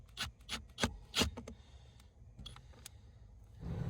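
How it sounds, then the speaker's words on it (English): Phillips bit on an extension turning out the screws that hold a blower motor in a 2021 Hyundai Elantra, several close, quiet rasping scrapes in a halting rhythm, with no talk. "I'm going to take out the 3 screws that hold this blower motor in"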